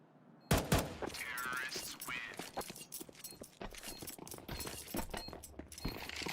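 Rapid bursts of gunfire from a Counter-Strike pro league match crackle close and loud, with scattered shots, clattering and footsteps mixed in and a commentator's voice faintly underneath.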